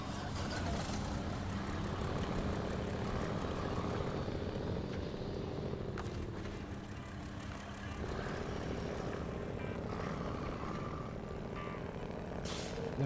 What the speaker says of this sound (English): why can't more trucks sound good like this one?